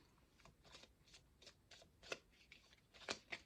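Cards are shuffled in a series of quick, soft riffling bursts, faint and close, ending with a few crisp snaps.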